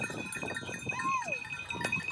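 Goats on a farm in Spain give a short bleat amid a faint jingle of bells, heard close but brief, with people talking nearby.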